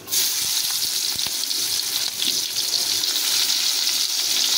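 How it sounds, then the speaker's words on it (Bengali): Chopped onions sizzle steadily in hot fish-frying oil seasoned with black cumin seeds, a loud continuous crackling hiss with occasional stir clicks and no talking. "এবার আমি পেঁয়াজ কুচি কিছু দিয়ে দেবো"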